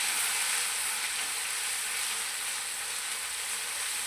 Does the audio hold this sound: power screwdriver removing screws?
no